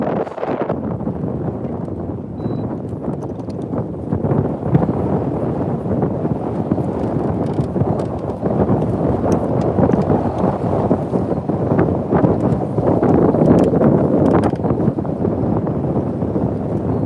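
Wind buffets the microphone out on the water during bass fishing, a constant low rumbling roar with gusty surges that stays loud and unbroken throughout, with no talking.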